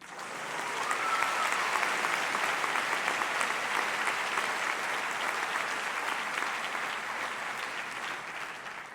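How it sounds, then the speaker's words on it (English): Sustained applause fills a commencement ceremony as the audience claps for graduating students, a dense, steady wash of many hands holding at full strength for the whole stretch before easing slightly at the end. "can we give a round of applause for Andrea Rani, Camelia Hassani, and Peter Ngato?"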